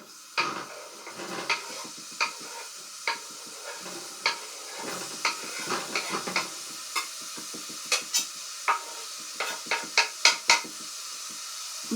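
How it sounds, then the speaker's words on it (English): Orzo pasta cooking for dinner, with a steady soft sizzle under repeated sharp clinks and scrapes of a utensil stirring against the pan. "I'm just cooking dinner."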